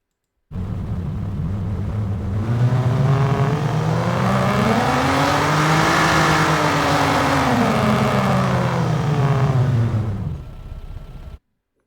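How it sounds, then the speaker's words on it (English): An Aston Martin Rapide engine revs up steadily, rising in pitch and roar over several seconds, holds loud, then cuts off abruptly. "thinking of either Aston Martin Rapide, which sounds like this."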